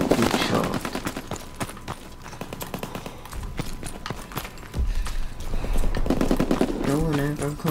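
Rapid bursts of gunfire from the Call of Duty WW2 video game, loud and sustained with tightly packed shots, plus game voice callouts and tonal effects toward the end.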